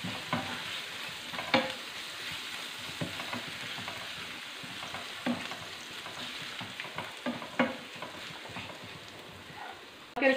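Chicken with red chili and salt cooking in a pan, a soft steady sizzle broken by repeated scraping stirs of a utensil, close and fairly quiet.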